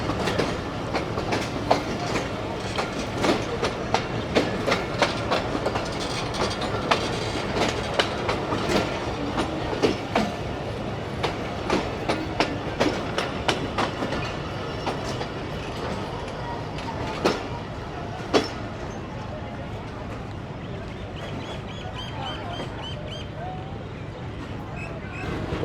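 A train pulls away from a platform on the Rawalpindi to Havelian line, a steady loud rumble with continuous clickety-clack wheel beats over the rails, sustained and close throughout.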